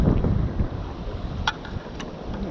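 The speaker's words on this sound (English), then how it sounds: "It's pretty windy this afternoon" Wind buffets the microphone during an afternoon of offshore kayaking on the sea. It makes a steady, heavy low rumble throughout, with a couple of faint brief clicks on top.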